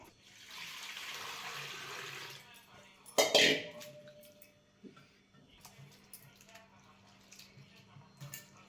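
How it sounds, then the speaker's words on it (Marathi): Tap water running over grated sweet potato as it is rinsed clean for a fasting kheer, a steady hiss of flowing water, then a sharp splash and quieter sloshing and handling, close by. "त्यामुळे अजून धुवून घेऊ आता ह्याला चांगलं आपण पाण्याने"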